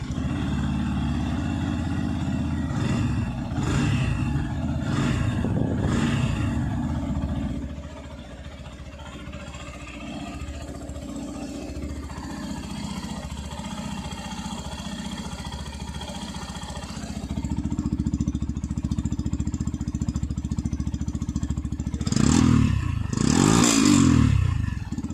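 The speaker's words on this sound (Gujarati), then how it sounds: "હું તમને બાઇક ચાલુ કરીને બાઇકનો અવાજ સંભળાવું." A 2025 Yamaha FZ-S Hybrid motorcycle engine running at idle, a steady low rumble with mechanical clatter that dips quieter midway, then rises again with a couple of louder revving bursts near the end.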